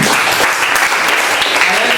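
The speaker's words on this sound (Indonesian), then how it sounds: "Tepuk tangan buat kita semua" Loud, dense applause from a classroom crowd during an open-class training session on spotting AI-generated images, continuous clapping with no pauses.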